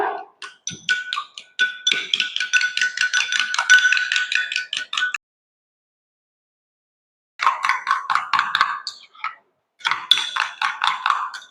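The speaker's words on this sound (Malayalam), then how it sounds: "നല്ല ഒരു സ്പൂൺ തൈര് ചേർത്ത് നല്ലതായിട്ട് മിക്സ് ചെയ്യുക." A spoon whisks a spoonful of curd in a bowl for a home dandruff remedy, making quick rhythmic clinks and taps up close in two long runs split by a short pause. No one talks.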